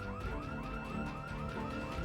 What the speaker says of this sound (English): that's where it sounds like the alarm is